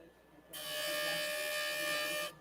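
A JOOLTOOL lapidary machine grinds a thick piece of rough opal, a close, steady high-pitched whirring buzz that starts abruptly and runs about two seconds before cutting off.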